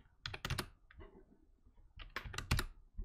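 Computer keyboard typing during 3D software work, with two clusters of quick, close, crisp key clicks separated by a short quieter gap; no voices.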